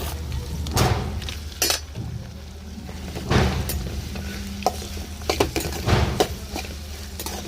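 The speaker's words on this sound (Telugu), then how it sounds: "టమాటాలు వేసిన తర్వాత జీడిపప్పు అండి అవి కూడా వేసుకొని మొత్తం ఆయిల్లో బాగా మగ్గేంత వరకు కలిపేసుకుందాం" Tomatoes and cashews frying in oil for a paneer curry, with a steady sizzle under clattering spoon-against-pan stirring strokes and occasional metal clinks, close and without voices.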